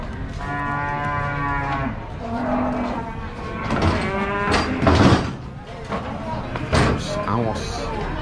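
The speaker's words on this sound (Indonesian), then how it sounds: "Proses penurunan sapi." Cattle lowing repeatedly as they are unloaded at a busy livestock market in Gondanglegi, Malang, the moos rising loud and near over a constant murmur of talking voices and crowd bustle.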